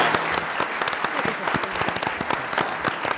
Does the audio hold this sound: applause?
yes